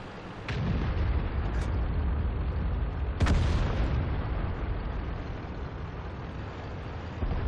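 IS4 heavy tank cannon fires at a T-62A in World of Tanks, a loud boom on a steady engine rumble, followed by a second sharp blast a few seconds later.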